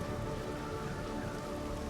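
Rain falls as a dense, steady wash of fine patter, full and close, with no voices over it.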